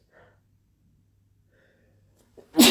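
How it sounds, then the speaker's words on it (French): A man gives a few faint breaths, then a single sharp, loud sneeze bursts out at the very end. "je crois que je vais éternuer"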